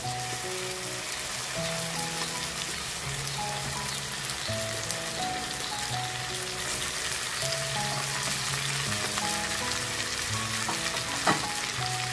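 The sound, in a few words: quail pieces frying in a pan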